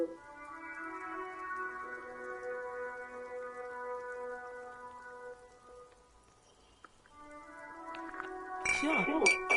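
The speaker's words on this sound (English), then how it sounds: "It's raining again." Steady soft rain in a video game falls under a sustained layered musical drone, ending with a few bright clinking tones.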